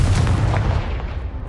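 A Confringo blasting spell hitting a pile in Hogwarts Legacy: one heavy booming blast with a deep rumble that fades over about a second.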